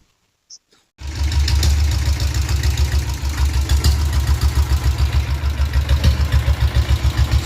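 A Royal Enfield diesel Bullet motorcycle engine idles close up after a short silence, a steady loud low thumping beat with a regular knocking pulse running throughout.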